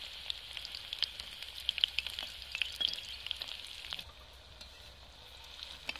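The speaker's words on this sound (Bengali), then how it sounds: "হালকা আঁচে আমি ভেজে নিয়েছি।" Pakoras fry in oil over a low flame, a soft, even bubbling sizzle with scattered small pops that eases off slightly toward the end, with no talk.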